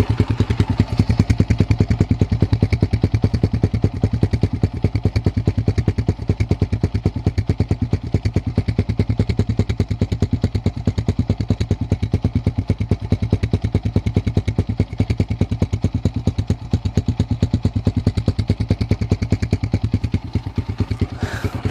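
Exciter motorcycle fitted with a homemade stainless steel exhaust, idling steadily and loudly up close with a fast, even putter and slight rattly clatter throughout, no revving.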